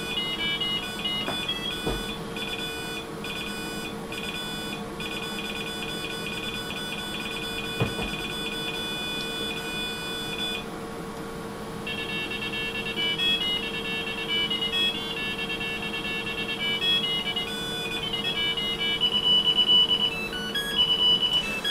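A tinny PC speaker buzzer beeps out a tune in steady tones over a constant hum, with a couple of faint clicks.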